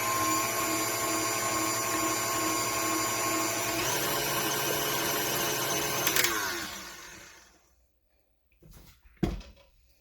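A KitchenAid stand mixer with a whisk attachment beating cake batter whirs in a loud steady drone, then winds down and stops, followed by a couple of soft clunks.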